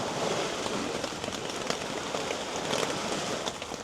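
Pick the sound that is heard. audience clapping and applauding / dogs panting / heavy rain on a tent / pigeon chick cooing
heavy rain on a tent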